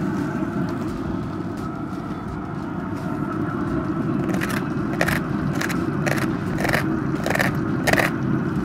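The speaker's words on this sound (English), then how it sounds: "Lovely bit of crackling there." Crispy pork crackling on a stuffed pork roast smoked on a Traeger Pro 575 pellet grill crunches in a quick run of sharp, close bites over a steady low background hum.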